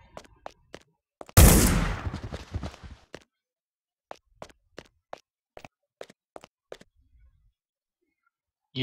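Desert Eagle pistol fire in Hitman Blood Money: one heavy booming shot with a long rumbling tail, followed by a string of sharp, evenly spaced shots about half a second apart, crisp and close against near silence.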